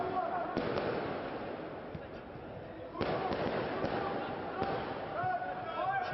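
Distant fireworks outside a football stadium pop and boom in scattered bursts during a match, echoing faintly beneath a steady crowd murmur and ongoing commentary.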